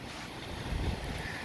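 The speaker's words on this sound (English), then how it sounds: "So it is windy here today" Wind blows across an open spot used for magnet fishing, making a faint, steady rumbling hiss with slight gusts.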